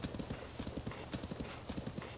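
Horse hooves clip-clopping in Zelda: Tears of the Kingdom, a quick steady trotting rhythm, quiet and close with no talk.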